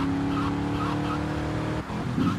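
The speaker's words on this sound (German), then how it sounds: "Junge, warum rutscht der Wagen denn so hier?" A car in GTA Vice City on PS5 skids and slides, its engine humming steadily and loudly while tires squeal briefly near the end.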